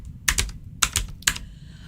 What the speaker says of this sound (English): you literally can just start typing